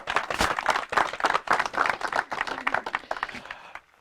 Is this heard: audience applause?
yes